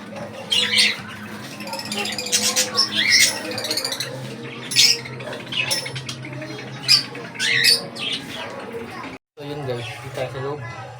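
Birds squawking and chirping in short sharp bursts from inside a cage, close by, with a person talking intermittently and faint background noise.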